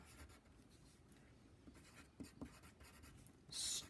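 A pen scratching words onto paper at close range, faint soft strokes with small taps, ending in a brief louder rub.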